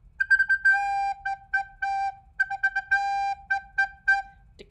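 A recorder plays short bursts of clear whistle-like notes in a quick sixteenth-note pattern, quick runs alternating with held tones, solo and fairly close.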